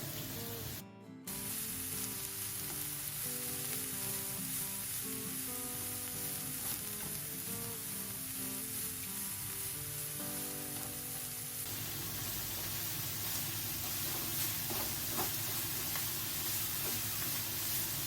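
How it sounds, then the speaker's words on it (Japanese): Cabbage fries in hot oil in a pan while tonpei-yaki is made. A steady, fairly loud sizzle runs throughout, with a shift in texture partway through and brief clatters. "油が温まってきたのでキャベツ入れますね"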